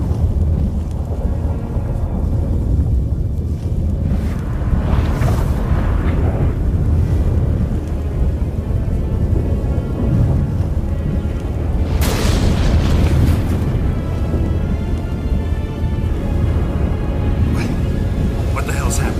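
A thunderstorm rolls over a fantasy landscape in The Witcher 3, with heavy continuous rumble and booming thunder bursts, while voices speak over the din.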